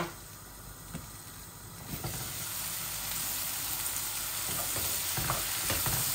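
Spices crackle and sizzle in hot oil over a full flame for a taro and meat curry, with steady stirring scrapes and a few sharper clinks, close and continuous.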